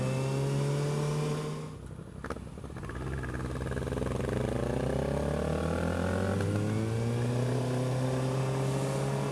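A motorcycle riding on a road for a Saturday ride, engine droning loudly and steadily, dipping briefly as it eases off then rising again through gear changes with a pitch sweeping upward, wind noise throughout, no talking.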